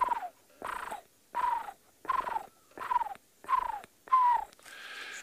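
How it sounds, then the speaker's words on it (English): Barred owlet calling at night on a safari, a series of seven rough, descending call notes in a steady rhythm, each about half a second long, fairly close and clear against a quiet background. "And I can hear the barred owl calling, kind of makes a grrr, grrr."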